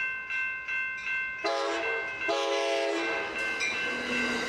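A Surfliner passenger train passes nearby. Rhythmic wheel clatter comes first, then loud, sustained horn blasts cut in and repeat over the rumble.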